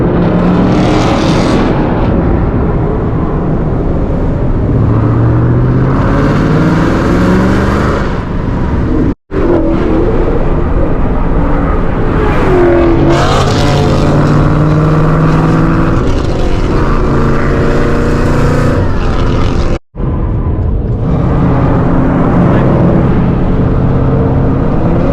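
A Ford Mustang fitted with an X-pipe exhaust roars loudly and continuously on a cold back road, engine revs rising and falling in long pulls with two brief dropouts.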